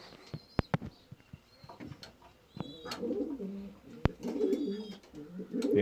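Pigeons cooing in a loft crowded with young birds, several soft burbling coos that grow steadier toward the end, broken by a few sharp knocks and scuffles, with faint talk in the background.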